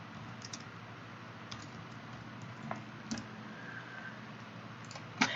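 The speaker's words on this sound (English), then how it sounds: "just type right over it" Keys clacking on a computer keyboard while a name is retyped in a Canva poster design, a few sparse, soft clicks over a steady low room hum.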